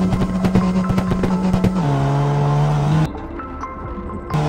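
A car in CarX Street launches hard with traction control off, its engine holding a steady loud drone that steps up through gear changes, with a brief drop near the end before the revs return.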